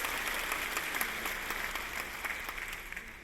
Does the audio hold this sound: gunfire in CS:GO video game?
no